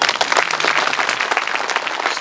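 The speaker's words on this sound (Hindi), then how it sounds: "तालियां बजा लीजिए।" An audience at a religious Bhagavat katha discourse in Rudauli, Ayodhya bursts into lively, uneven applause, with the hand claps close and continuous throughout.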